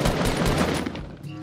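Rapid automatic gunfire from the battle royale video game Fortnite, a dense burst of shots rattling loudly and continuously before easing off near the end.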